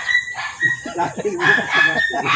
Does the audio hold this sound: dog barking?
yes